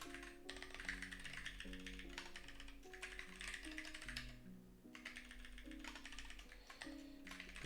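Steady clicking of a computer keyboard, fast irregular keystrokes close up, continuing almost without pause under a faint background tone.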